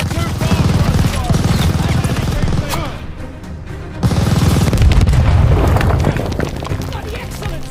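Dense machine gun fire and heavy explosions rumble continuously in a World War II combat battle in Call of Duty: Vanguard, loud and close, with shouting voices mixed in.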